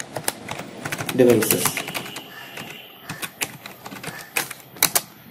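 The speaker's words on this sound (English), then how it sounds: "then type fast boot" Rapid clicking keystrokes of a computer keyboard as commands are typed at a command prompt, a quick irregular burst of close taps while someone speaks over them.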